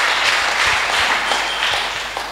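A church congregation claps in a dense, steady patter of applause that continues for the whole moment at a fairly loud level, with no voice over it.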